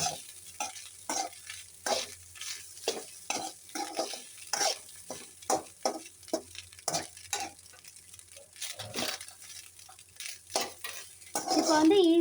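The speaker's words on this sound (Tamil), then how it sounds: "பெப்பர் தூள் போட்டு நல்லா வதக்கிக்கலாம்." A spoon stirs egg rice seasoned with pepper powder as it sautés in a pan, scraping and clinking in irregular strokes over a faint sizzle, with frying growing louder near the end.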